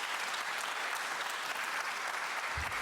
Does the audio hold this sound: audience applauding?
yes